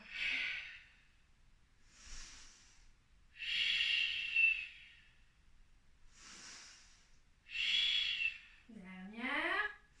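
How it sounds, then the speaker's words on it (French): Deep yoga breathing during a hatha session: several slow, airy inhales and exhales close to the mic, each a soft hiss lasting about a second, separated by quiet pauses, ending with a brief vocal rise. "Inspirez, expirez, poussez les talons derrière vous."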